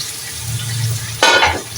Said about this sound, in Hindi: अब हम इसमें पानी डाल देंगे फौरन से।